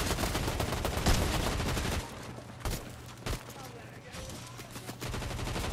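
Dense bursts of gunfire in the video game Fortnite, a rapid rattling volley at first, then scattered single shots and short sprays over steady background noise.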